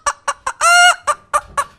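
Human voice imitating a hen clucking, with short rhythmic clucks broken by one sustained squawk in the middle, loud and close with no other sound.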